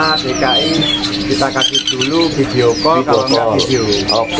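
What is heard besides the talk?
caged songbirds chirping at a bird market kiosk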